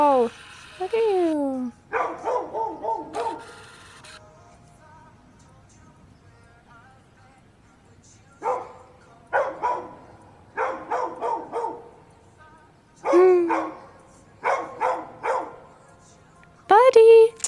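A puppy barks in short bursts of sharp yips and bow-wows, close to the mic, with quiet pauses between volleys while a person coos and talks to it.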